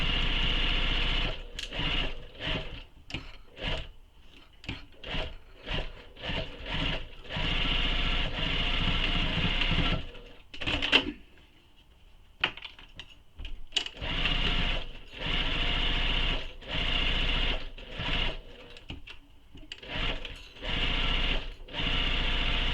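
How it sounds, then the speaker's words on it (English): A sewing machine stitches across the bottom and up one side of a slip pocket on a belt bag, in rapid stop-start bursts of whirring, with a quieter pause in the middle, heard close and fairly soft. "I'm going to start sewing on the bottom of the slip pocket here in the center, and I'm going to sew all the way across the bottom and up the one side"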